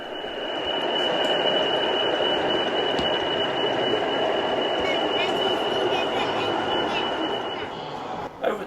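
A model railway Class 40 locomotive runs steadily at a busy model railway exhibition, a continuous rolling rumble and whir under the constant murmur of crowd chatter in the hall.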